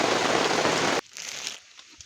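Rain pours steadily through a forest as a dense, loud hiss that cuts off abruptly, leaving faint scattered drips and patters afterward.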